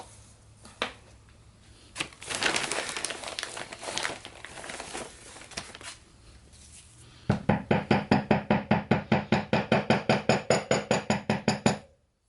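A hammer beating a brass Mythosaur piece for a custom Mandalorian build, with scattered shuffling and crinkling handling noise first, then a fast, even run of about twenty sharp metallic strikes, close and loud.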